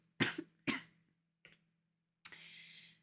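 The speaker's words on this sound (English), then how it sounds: "I didn't have a cough before this started, and now I do." Three sharp coughs close by, two in quick succession and a softer one after, followed by a longer raspy breath or throat sound.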